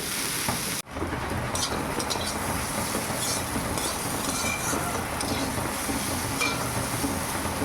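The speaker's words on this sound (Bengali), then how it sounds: "ভালো করে একটু ভেজে নেই" Potatoes fry in oil in a pan, giving a loud, dense, steady sizzle that drops out for an instant near the start and then hisses on without a break.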